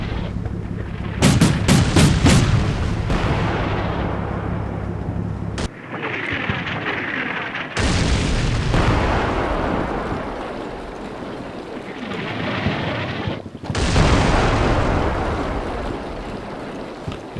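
A fighting vehicle firing in the Combat Mission Black Sea war game: a burst of rapid heavy shots up front, then sustained loud rumbling battle noise with abrupt shifts in texture.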